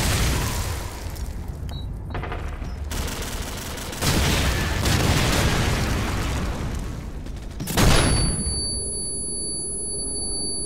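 Airstrike explosions in Call of Duty 4: Modern Warfare, heavy booming blasts rolling in loud bursts alongside scattered gunfire, with a final big explosion near the end.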